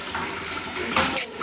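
Fresh water running from a tap to fill a child's bath, a steady broadband rush holding even throughout, with a brief brighter splash near the end and faint talk underneath.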